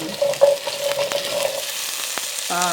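Hawaiian brisket sizzles steadily in a pan as it is half-cooked, a continuous frying hiss with a few stirring scrapes near the end.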